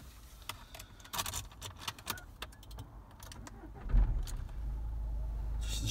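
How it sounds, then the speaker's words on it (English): A 2012 Nissan Qashqai N-Tec Plus is started from inside the cabin: keys and switch clicks rattle, a short cranking surge follows, then the engine settles into a steady low idle hum. "Let's just start the car up now."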